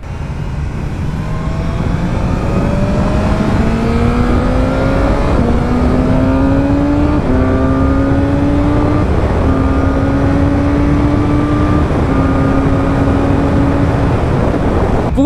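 A BMW motorcycle accelerates hard around the MotorPark Romania circuit, its loud, close engine note climbing steadily, with several crisp quick-shifter upshifts each briefly dropping the pitch before it climbs again.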